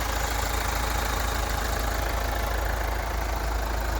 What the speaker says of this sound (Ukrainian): Двигун працює як часи.